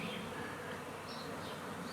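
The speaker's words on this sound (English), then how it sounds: "We've got our free bees and everything looks to be doing well." Steady, continuous buzzing of many honey bees swarming close by, a soft droning hum with no voices.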